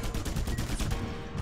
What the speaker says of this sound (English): the problem here with using the grapple hook is these sentry guns that will tear you to pieces really fast.